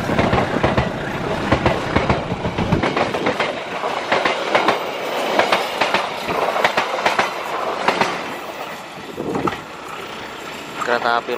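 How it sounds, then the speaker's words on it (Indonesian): A Bandung Raya local passenger train rolls past on the rails, steady rumbling with rhythmic clatter and occasional squeals, fairly close and loud throughout. "Kereta api lokal Bandung Raya saat ini sudah berangkat dan mengarah ke arah stasiun Haur Puhur"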